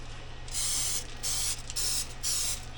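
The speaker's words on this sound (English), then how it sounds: "spray these down on each side and put them in the" Cooking spray hisses in four short bursts onto keto tortillas before they go into an air fryer, close and loud with brief pauses between the sprays.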